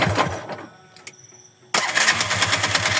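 Small engine idling after a carburetor tune-up cuts out, a short pause with a faint whine, then it fires back up and settles into a loud, steady, rhythmic idle close by.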